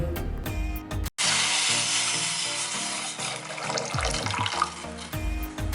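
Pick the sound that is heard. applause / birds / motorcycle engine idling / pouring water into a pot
pouring water into a pot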